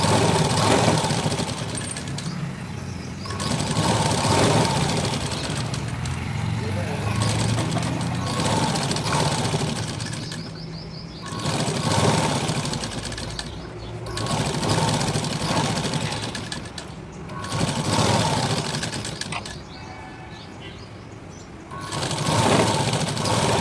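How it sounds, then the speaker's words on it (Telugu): A sewing machine stitches a blouse back piece in long, loud, steady whirring runs of several seconds each, separated by brief pauses, heard up close with no talking. "ఇప్పుడు ఇలా పెట్టేసి ఒక పాదం మందం ఖర్చుతో స్ట్రైట్గా కుట్టేసుకుంటూ రండి."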